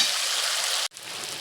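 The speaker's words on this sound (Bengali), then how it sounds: "এবার দিয়ে দেবো জল" Water poured into a hot frying pan with chopped ginger, giving a loud, steady hiss and crackle that cuts off abruptly, leaving a softer, fainter simmering fizz.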